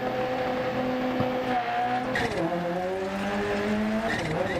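Rally car engine in Dirt Rally 2.0 on a New Zealand gravel stage, revving high and steady with rising and falling pitch as the car slides through corners, loud and continuous throughout.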